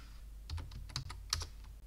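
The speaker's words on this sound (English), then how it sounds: "I'm going to type the command on the screen." Keys tapped on a computer keyboard while entering a Linux command, a quiet, irregular run of light clicks over about two seconds, close by with no talking.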